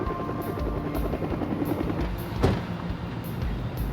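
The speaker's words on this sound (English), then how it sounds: "Their path was lit by an aircraft overhead." An aircraft passes overhead in a documentary reenactment, a continuous loud helicopter-like rotor drone with regular rhythmic chopping pulses about every half second, swelling briefly near the middle, with no speech.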